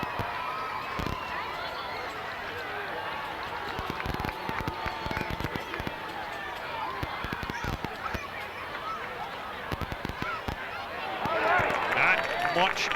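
A crowd at a 1997 high school football game between Kearsley and Clio in Pride Stadium murmurs in the background under steady commentary, then rises into louder cheering near the end.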